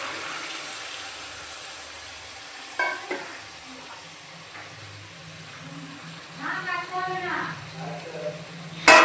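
Prawns, potato and pointed gourd fry with spices in a pan, giving a low steady sizzle, with a few scraping stirs of a spatula and a louder clatter near the end.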